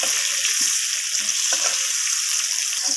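Potatoes frying in hot oil with turmeric and being stirred, heard as a steady close sizzle with scattered scraping and clinking of the stirring utensil throughout, no voices.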